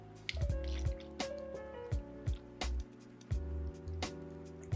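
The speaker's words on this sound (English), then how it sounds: "Get a swig of that water though." Someone drinks water in gulps, a series of wet, squishy swallows and liquid sloshes repeating at an irregular rhythm, close and fairly loud with no talking.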